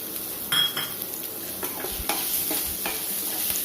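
Shallots, onions and green chillies sauté in a pan for hotel-style sambar, with a constant close sizzle broken by several metallic clinks and scrapes of a ladle against the pan and no voices.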